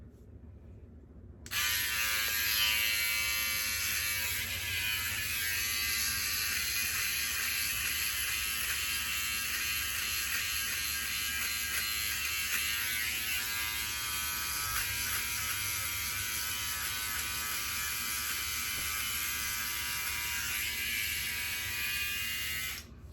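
A Philips OneBlade Pro electric trimmer buzzes steadily while dry-shaving a beard, a loud close whine running continuously for over twenty seconds with faint rasping variations as it passes over stubble.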